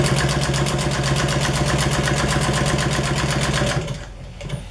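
An upholstery sewing machine runs in a fast, steady mechanical rhythm as it top-stitches upholstery material, loud and close, then stops abruptly with a short fade near the end.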